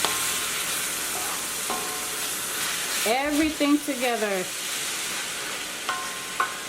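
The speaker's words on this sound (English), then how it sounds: "So I'll let it saute for about 5 minutes." Liberian potato greens sauteing in a pot, a steady sizzle and stir under brief speech, with a hissing tonal swell midway.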